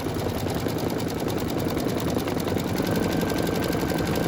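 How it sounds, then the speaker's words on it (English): An embroidery machine stitching over existing stitching on a dress boutique hanger design, a close, loud, rapid mechanical rattle with a fast steady rhythm throughout. "Now it may sound a little wonky because it's stitching over stitching"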